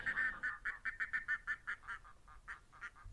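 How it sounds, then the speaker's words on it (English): A goose calls repeatedly from overhead along the Hebridean Way, a run of nasal honks in quick, slightly uneven rhythm, faint and distant. "I think that's a goose flying high above me."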